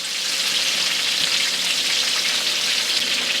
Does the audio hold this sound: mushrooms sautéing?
yes